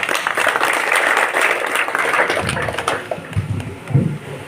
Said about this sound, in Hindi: तो तालियों के साथ इनका स्वागत करिए।